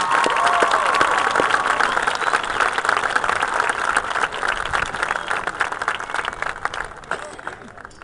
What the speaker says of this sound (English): Let's give one last round of applause to the former students.